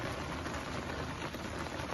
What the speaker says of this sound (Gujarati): બપોરે ધોધમાર વરસાદ શરૂ થયો હતો